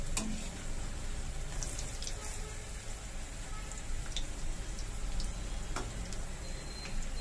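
Pakoras frying in hot oil for Rajasthani kadhi give a steady, moderate sizzle with scattered light crackles and ticks, heard close and without talking.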